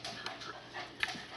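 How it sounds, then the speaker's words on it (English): An excited dog running around nearby and panting, with soft quick breaths and a few faint whimpery sounds over a steady room hiss. "there's my dog running around going nuts again"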